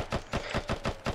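A soldier's rifle fires in combat during a helmet-camera recording from an Army aviation unit, five or six fast, evenly spaced loud shots in a short burst.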